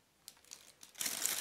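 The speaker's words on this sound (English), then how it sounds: "remove the plastic" Plastic bag crinkling as it is pulled off a pair of VicTsing compact folding 8x30 binoculars, a few soft rustles, then a louder, denser crinkle close by.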